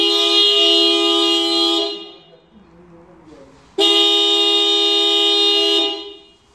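Renault Fluence alarm honking its car horn in two long, loud, steady blasts separated by a short pause, close by.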